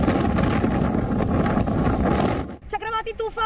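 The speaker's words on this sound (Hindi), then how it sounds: "तेज हवाओं का शोर है" Strong cyclone winds roar across the coast at Digha in East Midnapore during Cyclone Yaas, with high waves churning beneath. A loud, steady wind rush fills most of the clip, then drops away near the end as a voice starts speaking.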